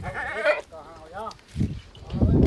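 Goats bleat in quavering, wavering calls, several in succession, close by, with some background noise between them.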